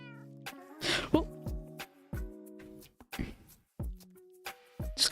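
Repeated cat meows in Minecraft, several short tonal calls in a row, clear and close, with brief gaps between them.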